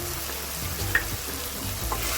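Paneer masala ingredients fry in oil in a pan with a dense, continuous sizzle, while a spoon stirs them in repeated scraping strokes close by.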